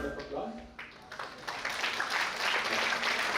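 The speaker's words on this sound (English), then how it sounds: "With a huge round of applause" Applause from an audience at a college entrepreneurship summit event, a broad steady wash of clapping that swells and holds through to the end, with a voice briefly over the start.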